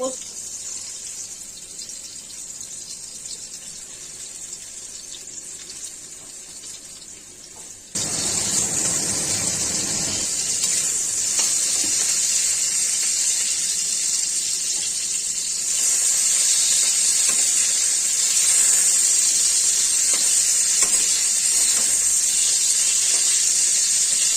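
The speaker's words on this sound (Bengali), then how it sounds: "এবার আমি পটলগুলো এক এক করে বসিয়ে দেবো।" Pointed gourd pieces dropped one by one into hot oil in a pan for an aloo potol curry, a steady bright sizzle that jumps louder partway through and stays strong and close.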